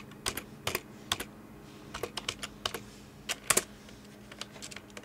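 Fingers tapping out a name on a computer keyboard, bursts of close, crisp key clicks in irregular clusters with short pauses, no talking.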